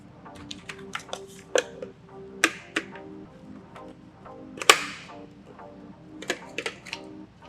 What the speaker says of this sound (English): Simply click in the ear muff,